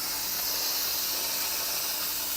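Steam hisses steadily out of an Instant Pot pressure cooker's release valve after cooking corned beef, cabbage and potatoes: a continuous, fairly loud, broad rushing hiss that holds constant for the whole stretch, with no talk.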